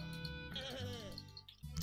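In the video game Lumberhill, sheep bleat in short wavering cries over a busy game soundtrack, faint and mixed with musical tones.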